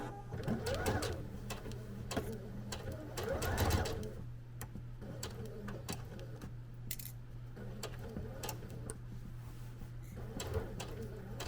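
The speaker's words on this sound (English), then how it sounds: "when we're doing a basting stitch, that our machine is on the longest stitch length" A home sewing machine runs a basting stitch at its longest stitch length on Liberty London fabric for a palazzo suit, giving a faint, steady mechanical whir with light clicking and brief pauses.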